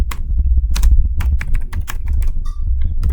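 A command is typed quickly on a computer keyboard during network switch configuration. Close, sharp key clicks come in uneven bursts with brief pauses between them.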